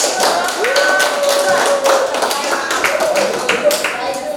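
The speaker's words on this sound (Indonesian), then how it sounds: "Kita beri aplaus." A group of people claps after a classroom group presentation on biotechnology, applause steady and close for a few seconds with talking over it.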